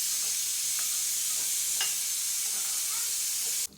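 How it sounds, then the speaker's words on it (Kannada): Coriander seeds fry in a pan for puliyogare spice powder, giving a steady close hiss and sizzle with faint stirring clicks before the sound cuts off abruptly near the end. "ಧನಿಯಾ ಸ್ವಲ್ಪ ಘಮ ಬರುತ್ತಲ್ಲ, ಅಲ್ಲಿವರೆಗೂ ಫ್ರೈ ಮಾಡ್ಕೋಬೇಕು"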